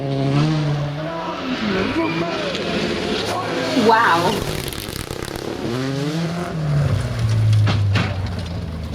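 A rally car races at speed on a Scandinavian stage, its engine rising and falling through gear changes with tire noise, heard close and loud beneath a person talking over it.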